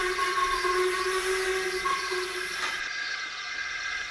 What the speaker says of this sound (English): when they heard a whistle.